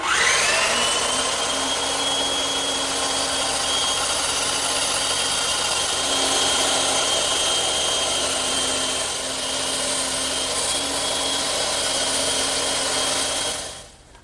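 A table saw rips a teak board freehand without a fence, a steady loud whine from blade start-up through a sustained even cut, winding down abruptly at the end.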